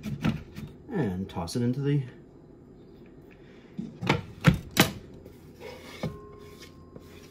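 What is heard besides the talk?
rough chopping of herbs for chimichurri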